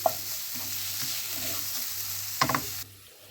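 Shredded cabbage stewing in a pan with a teaspoon of sugar and salt is stirred, a soft steady sizzle with scraping strokes and a clatter near the end before it cuts off.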